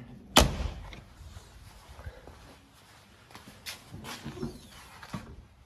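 On a 1974 Porsche 911 Targa with an air-cooled 2.7-liter flat six, the rear engine lid releases with one sharp, loud clunk, followed by softer thumps and handling noises nearby.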